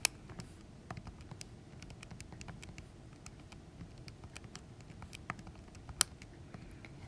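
Soft, irregular key taps on a graphing calculator as data values are typed in, a quiet patter of light clicks with a few sharper presses, close and alone without talk.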